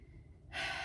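Breathing during a yoga forward fold, a quiet moment followed by one close, audible breath that swells and holds.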